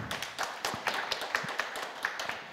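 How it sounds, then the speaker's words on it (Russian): Scattered audience clapping at a press conference for a robot concert premiere, a thin, uneven patter of individual claps at moderate distance, fairly quiet and steady, with no talk over it. "Аплодисменты."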